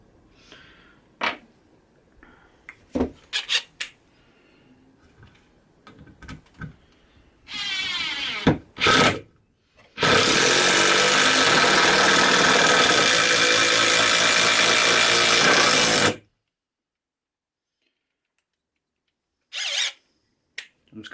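A Bosch PDR 18 LI 18V cordless impact driver drives large wood screws, including one about four inches long, with short bursts followed by a loud, sustained hammering run of about six seconds, then silence and a brief final burst.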